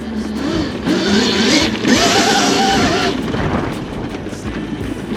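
An electric KTM motocross bike accelerating hard at full throttle, giving a rising whine that swells and climbs in pitch for a couple of seconds before easing off, mixed with wind and ground noise and no talk.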